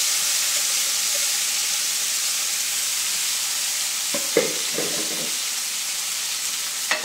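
Moth beans dropped into a kadhai of hot oil with cumin for Khandeshi masala bhaji, a steady soft sizzle and hiss with a few brief scraping stirs partway through.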